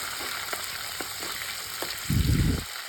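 Green chillies fry in hot tempering oil with a continuous crackling sizzle and a few soft taps, then a brief, louder rumbling burst near the end as the pan is stirred.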